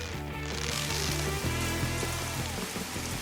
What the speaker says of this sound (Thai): เพื่อทำให้ฝนตกแถวนี้